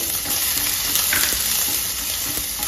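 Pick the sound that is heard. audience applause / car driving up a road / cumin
cumin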